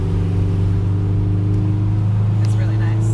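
Loud, steady car exhaust drone in stopped traffic among Maseratis on a hot day, a deep constant rumble filling the whole stretch with faint higher noises late on and no talk.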